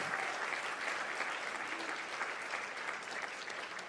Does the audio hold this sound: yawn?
no